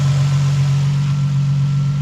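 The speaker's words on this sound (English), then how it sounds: "So here she is, purring in all her glory," An Infiniti G35 salvage drift-build car idles close by with a steady, even low hum and no revving.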